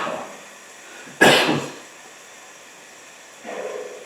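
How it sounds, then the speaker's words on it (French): A single harsh cough bursts out loudly and close during a Zelda Twilight Princess let's play, followed a couple of seconds later by a softer breathy throat sound, with quiet game audio underneath. "il y aura eu la toux pendant tout le let's play, c'est méga chiant"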